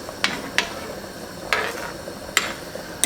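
Beef stew being stirred in a pot, spoon clanking against the pot sides in five sharp, irregular knocks over a quiet background, no talking.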